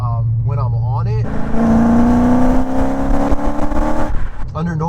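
A BMW E39 M5 with a Supersprint exhaust revs from a steady idle into a loud, rising, rasping roar that holds for a few seconds before dropping back, with someone talking on either side of the rev.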